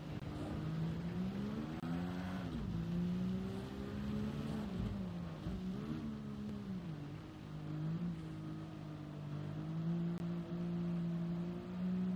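A race car engine in the Gran Turismo 7 video game hums steadily for the whole stretch, its pitch wavering gently up and down as the throttle is feathered through corners, with no speech.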